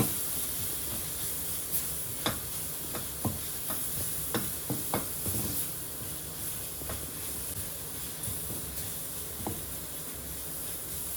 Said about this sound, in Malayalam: മസാലയുടെ പച്ച മണമൊക്കെ ഒന്ന് മാറണം വരെ ഒന്ന് വഴറ്റിയാൽ മതി